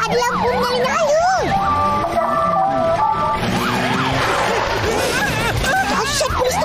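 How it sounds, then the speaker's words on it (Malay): A police motorcycle siren wails continuously with rapidly rising and falling tones, loud and near, amid busy street noise in an animated scene. "Wah, ada motosikal polis. Tak tahu pun siap bunyi siren dah ada lampu menyala-nyala."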